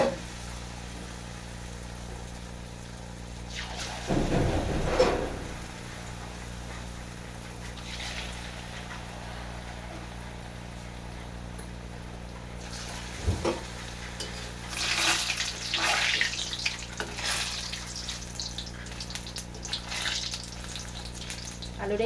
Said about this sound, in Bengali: সাদা তেলটা আমি গরম করে নেবো তেলটা আমার গরম হয়ে গেছে আমি এক এক করে এই আলুর এগুলো ছেড়ে দেবো